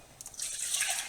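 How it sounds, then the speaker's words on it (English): Liquid, milk for homemade yoghurt, pours into a measuring jug in a short, close splash that starts with a few drips and rises to a steady hiss. "Now I'm just going to pour in to my measuring jug"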